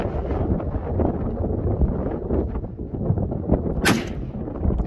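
A single rifle shot from a custom Tikka T3 fires at a target 380 yards downrange outdoors, a sharp loud crack near the end over steady wind rumble.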